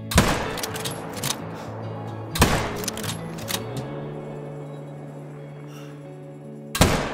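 Rifle shots fired at a bear in a hunting video game: sharp loud broadband cracks near the start, around two and a half seconds and at the very end, each with a short decay over a low steady game ambience.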